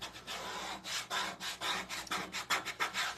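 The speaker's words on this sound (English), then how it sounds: "we're like scraping the top layer off of this" A rhythmic close-up scraping, stroke after stroke, as the top layer is scraped off a coffee-design surface, dry and raspy with short gaps between passes.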